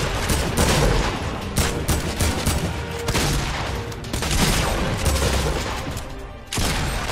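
Scoped revolver shots in Fortnite Battle Royale: repeated loud, punchy reports fire in uneven succession amid dense, continuous battle noise.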